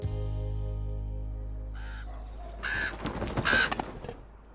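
Crows caw a few times at a moderate distance, two or three harsh calls coming after a steady low hum, with no one speaking.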